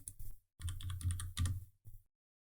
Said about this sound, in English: I'm going to type in desk.